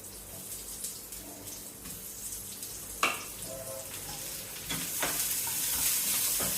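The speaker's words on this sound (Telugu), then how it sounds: "సో ఇందులో వచ్చేసరికి మనం కట్ చేసుకున్న ఆనియన్స్ని వేసేసుకోవాలి." Chopped onions hit hot oil in a pan, three tablespoons of it, giving a steady sizzle and crackle with a few stirring scrapes and clatters, building slightly louder toward the end.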